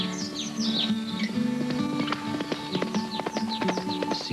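Horses' hooves clip-clop in a steady walking rhythm through a Kentucky tourism commercial, close and clear, with birds chirping and faint high calls mixed in over the hoofbeats.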